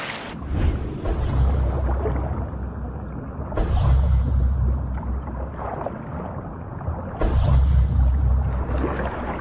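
Albatross chicks splashing as they try to take off from the water: heavy rumbling surges of water with three loud bursts of splashing and a steady churning wash between them.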